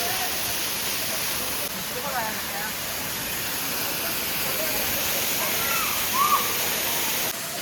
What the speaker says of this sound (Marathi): आणि इकडे धबधबा